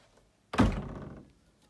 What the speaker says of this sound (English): These closet doors do not shut much.